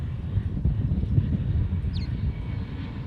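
A plane landing on runway 4 Right at Honolulu airport, with a steady low engine rumble throughout and a faint higher whine near the end, heard from a distance amid some wind.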